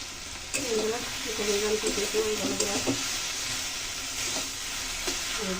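Cabbage cooking with fish head and potato sizzles steadily in hot oil, a continuous close crackle and hiss with occasional stirring scrapes, faint background noises over it.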